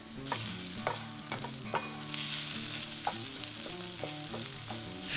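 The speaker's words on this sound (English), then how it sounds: "we're just going to continue to stir this around on low heat just to soften those onions and get them nice and golden brown" Onions stirred in a pan over low heat, softening toward golden brown; a soft continuous sizzle is broken by repeated scraping strokes of the utensil, no voices.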